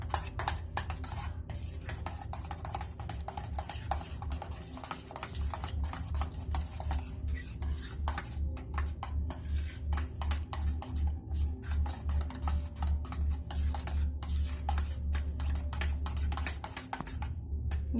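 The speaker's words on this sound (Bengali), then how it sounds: "আর গরম মশলার গুঁড়ো, এই সবকটা দিয়ে এটাকে মিক্স করে নেবো ভালোভাবে" Paneer cubes being mixed with ground coriander, cumin and garam masala make a fast, rhythmic scraping and rubbing in a bowl, steady and close, joined by a low droning hum partway through.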